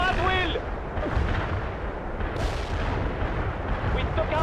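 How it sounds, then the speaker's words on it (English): Airstrike explosions in the World in Conflict real-time strategy game, heavy rumbling blasts and artillery-like booms rolling continuously and loud, layered over battle noise with some voice chatter. "Let's just use an airstrike to take care of these two fortifications"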